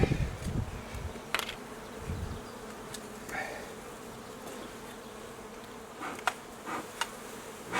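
Honey bees humming steadily at an open spring hive during an inspection, a dense continuous buzz with a few louder passes near the microphone.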